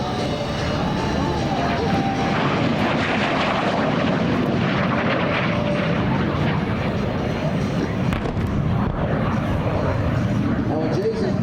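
A Shenyang jet fighter makes a low, fast pass at the Beale Air and Space Expo, its engine a loud, sustained roar that fills the whole stretch, with an announcer talking over it.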